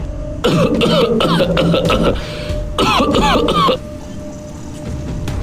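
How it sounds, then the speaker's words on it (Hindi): An old man coughs and clears his throat in a horror story scene: two clusters of rough, close, loud coughs, the second shorter, followed by quiet. "तभी दादाजी खांसने लगे।"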